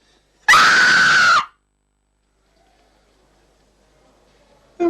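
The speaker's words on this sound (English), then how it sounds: "All right, then scream." A person in a 1980 film lets out one loud, sustained scream of about a second, followed by near silence and the start of another cry at the end.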